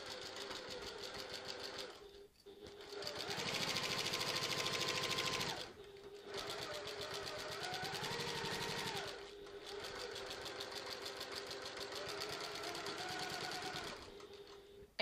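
A domestic sewing machine stitching the exterior of a tote bag, running in three close, steady bursts of fast mechanical whirring and clatter separated by short pauses.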